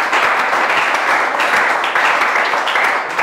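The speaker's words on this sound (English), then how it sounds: "Let's give the Lord a round of applause." A church congregation gives a dense, steady round of applause after a sermon, many hands clapping at once with an even, sustained wash of sound from start to finish.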